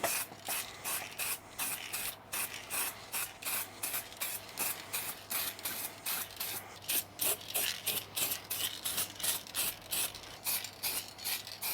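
Matte black epoxy-based lacquer hisses from a spray can onto a Commodore 64 case in rapid, regular bursts, each short spray separated by brief gaps, close and steady throughout with no talking.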